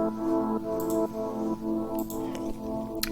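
A simple saw-wave pad synth built in Serum holds sustained harmonic chords. Rhythmic dips in volume suggest sidechain pumping, with faint ticking percussion on top and no talking.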